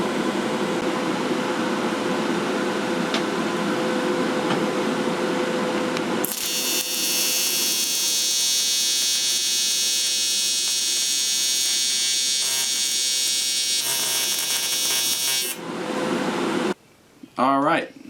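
Angle grinder working down a metal part for a hidden hydraulic handbrake on a 1JZ-swapped 240SX: a loud, steady high-pitched grinding whine running for several seconds, preceded by shop noise and talk, then cutting off.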